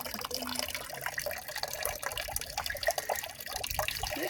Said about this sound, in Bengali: এখানে বালতিতে জল পড়ছে জল ভরা হচ্ছে জল পড়ছে